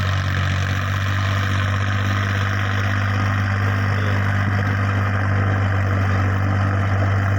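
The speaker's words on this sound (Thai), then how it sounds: "สี่สิบแรงเทอร์โบ เสียงเล้าเล้าครับ เสียงใหญ่มาก" A secondhand Iseki 40-horsepower turbo tractor working a rice field runs with a deep, steady engine drone and a strong low hum, holding an even pitch throughout with no talk.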